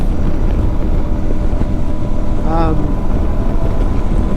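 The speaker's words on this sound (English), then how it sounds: "Very flat, very windy, huge amount of buffeting." Strong wind roars and buffets the microphone during a motorbike ride across flat, open country in France, a loud, continuous rumbling rush with a brief tonal whine partway through.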